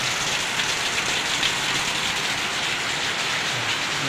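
Heavy rain comes down in a loud, steady, dense hiss, continuous and close, with no voices.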